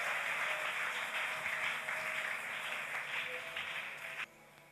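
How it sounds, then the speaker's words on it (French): A church congregation applauds together at a Sunday service, a steady, loud wash of many hands clapping that ends abruptly. "Applaudissons l'Éternel des armées"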